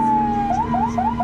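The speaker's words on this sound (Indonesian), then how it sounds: "Suara ambulans sudah seperti lagu yang terdengar di mana-mana." Ambulance siren during the pandemic: a steady tone that shifts into a rapid rising-and-falling wail with regular sweeps, loud and near, with no talk.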